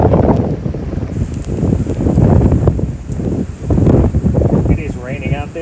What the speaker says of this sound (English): It is raining out there and very bad windy.